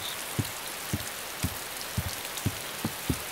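Steady rain hisses and patters over a game world in DayZ, a dense wash of droplets with soft low thumps recurring every half second or so, evenly through the stretch with no voices.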